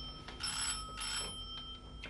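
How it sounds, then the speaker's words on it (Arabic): A telephone rings in a home interior, giving a faint, bright, repeated electronic ring in short bursts, with no talk. "قوم شوف التليفون"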